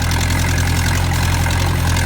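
Farm tractor engine idling close by at a hayfield, a loud steady low throb with an even pulsing rhythm and no voices.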